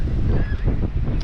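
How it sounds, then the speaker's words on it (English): Strong wind on Jomtien beach buffets the microphone, a loud, steady low roar that stays constant throughout. "And it's very windy out."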